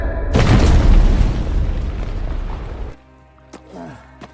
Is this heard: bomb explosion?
yes